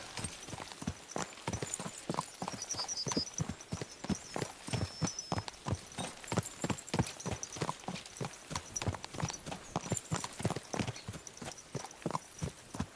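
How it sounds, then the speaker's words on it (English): Horses trot along in the video game Kingdom Come Deliverance 2, a steady, close clip-clop of hooves repeating rhythmically for the whole stretch, with faint higher tones now and then and no talking. "Let's really spur these horses on, eh?"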